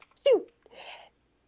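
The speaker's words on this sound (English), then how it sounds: "I have to sneeze, so pardon me, everybody." A single sneeze, a sharp voiced burst followed by a breathy, hissing release, close and fairly loud.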